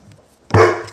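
A single loud, close dog bark bursts out halfway through after near silence, then fades slightly.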